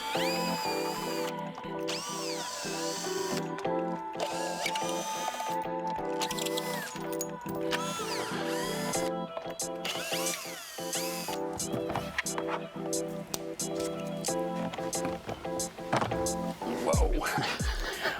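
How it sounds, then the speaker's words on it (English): A cordless power drill whirs in short bursts while it backs out the Torx bolts holding the soundbar of a Jeep Wrangler, with tonal motor whine, pauses and soft clunks, and a voice speaking over it. "take out the 6 Torx bolts that are holding the soundbar up"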